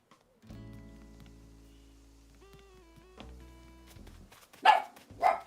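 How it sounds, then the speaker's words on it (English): A cartoonish dog barks twice near the end, loud and close, in a video game, after a stretch of steady electronic tones and game-like music. "what are you barking at?"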